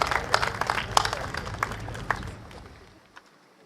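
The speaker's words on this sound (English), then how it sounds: "Can we give him another round of applause, please?" An audience at a Singapore election rally applauds after a speech, a burst of dense clapping that gradually thins and fades out over about three seconds.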